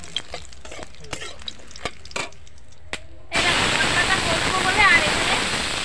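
Papads frying in hot oil in a pan during Bengali home cooking, starting as sparse crackles and pops, then bursting into a loud, dense, steady sizzle that fills the rest of the clip.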